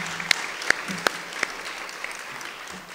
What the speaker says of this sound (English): I would like for us this morning to just give a round of applause